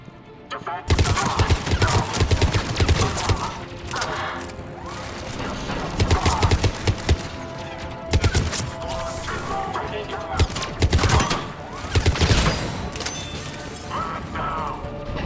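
Heavy cannon fire and gunfire in the game Mass Effect 3 during a Krogan battle against an incoming ship, dense continuous bursts with repeated loud booming blasts over a constant roar of battle.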